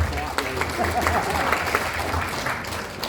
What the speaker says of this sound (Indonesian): Ayo kita berikan aplaus untuk ITERA Care Indonesia.